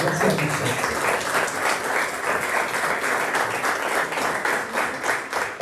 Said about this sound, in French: ça demande encore une fois des applaudissements pour tous ces boxeurs et boxeurs